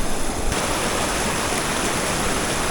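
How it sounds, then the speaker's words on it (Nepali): A rushing stream near Kolung Jharna waterfall pours out a loud, steady broadband roar of churning water that fills the whole clip without a break, with no voices. "खोला यस्तो छ हेर्नु न, साह्रो गिद्दी भयो।"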